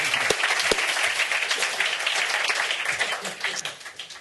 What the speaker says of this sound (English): so give him a big clap first